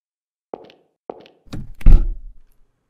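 A locked door being tried in the horror game The Hanged Man. Two light taps come first, then a heavier thud and rattle as the door holds, all close up and with no talking.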